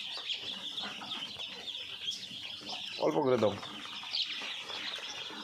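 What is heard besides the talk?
Khaki Campbell ducklings being fed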